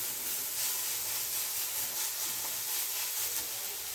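Steady, dense hiss of chopped tomatoes sautéing in a pan for Chennai-style snake gourd thokku, frying continuously at moderate volume with faint stirring and no talking.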